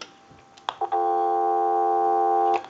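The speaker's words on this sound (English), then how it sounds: "Now I want to hang up, give you some dial tone" A converted Crosley wooden wall telephone gives a few handset clicks, then a steady, loud, unbroken dial tone that holds for under two seconds before cutting off with another click.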